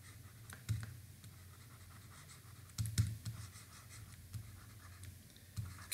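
Handwriting letter by letter produces close, intermittent scratchy pen strokes in short bursts over a low steady hum.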